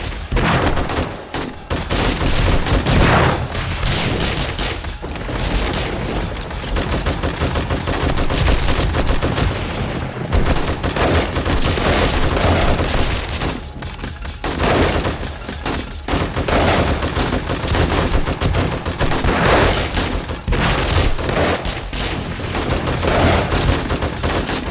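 Automatic turrets in the zombie survival game 7 Days to Die fire continuously, a dense, loud stream of rapid gunshots that barely pauses, with no speech over it.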